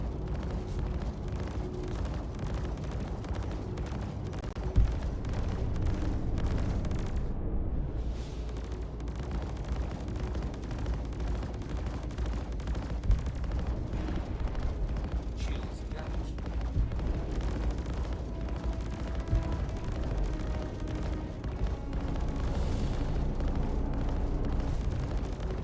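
Weapon fire in Star Citizen, a long stretch of sustained, booming shots and rumbling blasts, dense and continuous for over twenty seconds, with voices talking underneath.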